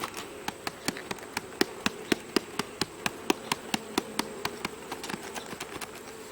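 Honey bees swarm around an opened hive during an inspection for varroa mites, giving a steady, fairly faint buzzing hum broken by a regular series of sharp ticking clicks throughout.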